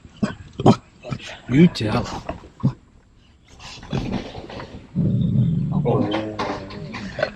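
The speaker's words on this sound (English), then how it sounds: "Oh, you bad dog." A dog on rural hunting land in Lorman, Mississippi barks and growls in short bursts, then gives a longer rumbling growl, close and loud, with a person speaking over part of it.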